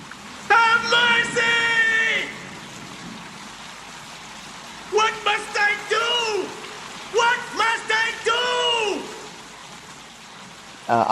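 Steady rain hisses through a dark horror-film scene set near a church, a continuous wash of drops running beneath loud, strained voices that rise and fall in bursts.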